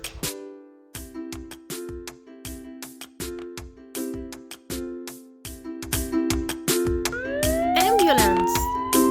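A wailing ambulance siren rises and falls after a run of short tonal beeps and chimes, loud and close, ending in a sweeping upward whoop.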